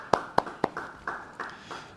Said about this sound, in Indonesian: Yang percaya beri tepuk tangan buat Tuhan.